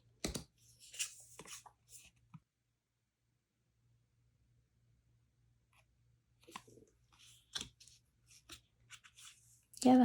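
Tarot cards from a new deck are handled up close with faint scattered papery rustles and clicks, broken by quiet gaps and mixed with soft talk.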